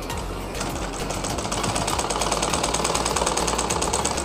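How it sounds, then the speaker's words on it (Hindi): Sewing machine stitching a stretched neckline strip onto a belted blouse, a steady close rapid whir of the needle that starts softly and picks up speed after a moment, running continuously with no talking. "और सिलाई कर लेंगे।"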